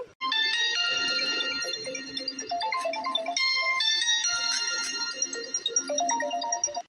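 A melodic phone ringtone chimes loudly and steadily, its bright synthesized notes repeating in a rising and falling pattern throughout, with no voices over it.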